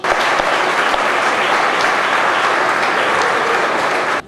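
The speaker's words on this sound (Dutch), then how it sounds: "laten wij eens een keer flink klappen voor deze dames." A church community at a First Holy Communion celebration in Kessel, 2014, gives a round of applause for a group of women. The clapping is loud, full and continuous, then stops abruptly at the end.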